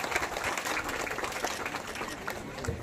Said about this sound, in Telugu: ఒకసారి గట్టిగా చప్పట్లతో మన యొక్క కృతజ్ఞతలు తెలియజేస్తాము